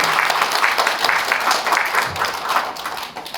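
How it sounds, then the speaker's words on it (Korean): Lecture-hall audience applause, a thick continuous wash of many people clapping together, loud and fairly close, tapering a little at the end. "여러분 박수 한번 부탁드립니다"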